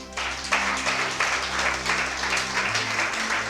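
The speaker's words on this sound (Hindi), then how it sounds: "अब बजाओ ताली।" Sustained clapping from a church congregation during a Hindi sermon fills the room in steady, dense waves over a held musical drone, continuing evenly to the end.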